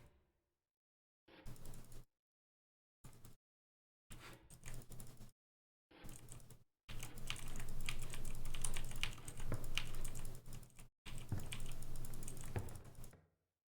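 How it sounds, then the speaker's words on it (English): Rapid bursts of mouse clicking while playing Inscryption, close and crisp, coming in short clusters separated by silences and then as a long dense run. "As you can hear me spam clicking"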